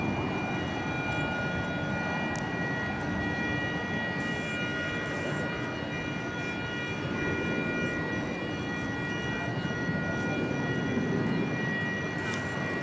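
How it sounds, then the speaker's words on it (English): Steady broadband roar with thin high whine tones from an air start unit on a jet at the UPS ramp at DFW Airport at night, distant and continuous without talk. "I think I hear the whine of an air start over there at UPS"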